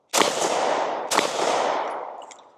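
Two suppressed shots from a DUSK19 Brown Frame handgun sound about a second apart, each a sharp crack followed by a long, loud echoing decay outdoors, with no talking.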